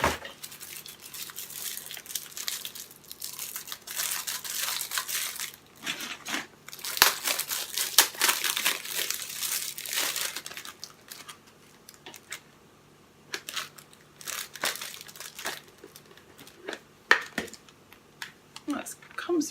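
Outer packaging of a Rachel Ellen compact mirror crinkles and crackles in close bursts, loud for the first ten seconds, then sparser rustles and taps after a pause.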